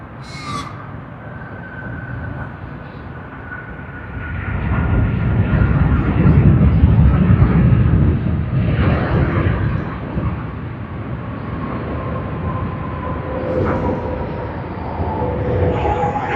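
A Malaysia Airlines airliner on flight MH251 from Kuala Lumpur passes at Sydney Airport, its low engine roar swelling after a few seconds and then holding as a steady rumble.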